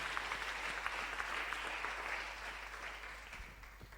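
A congregation claps steadily and continuously through a church service during a day of fasting and prayer, a dense, even wash of applause at moderate distance with no pause.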